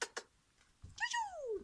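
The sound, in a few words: cat meowing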